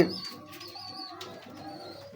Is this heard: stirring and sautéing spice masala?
no